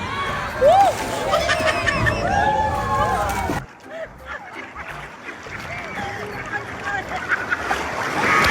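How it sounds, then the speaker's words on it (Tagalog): Big ocean waves crash and wash around a boat, with roaring surf and wind noise, while excited voices shout and exclaim over the first half before the water sound continues more quietly. "Ang laki ng Alon!"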